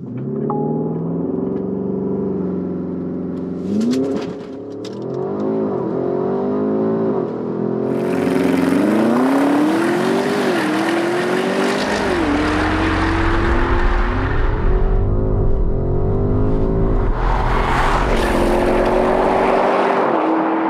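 A Porsche Cayenne Turbo GT launches hard and accelerates, the engine note climbing through several rising gears with brief dips at each shift, loud and close with a deep rumbling roar building toward the end.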